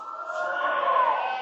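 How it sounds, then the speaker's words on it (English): An ambulance siren wails steadily near a high school baseball game, a sustained mid-pitched tone that rises slightly and carries clearly with no talk over it. "it sounds like that ambulance was just sitting there"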